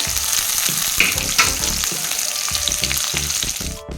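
Two large onions with coriander and curry leaves sizzle steadily in hot oil in a pan, a continuous crackling fry with faint stirring scrapes, close and loud, no talk.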